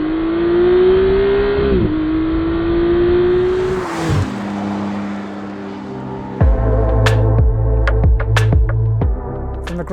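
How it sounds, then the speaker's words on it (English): McLaren Artura V6 engine climbing through a long, high-pitched rev toward 8,500 RPM, easing off and pulling again, then settling into a deep throbbing growl with sharp crackles near the end, loud and close with no talk. "The result is a high revving V6."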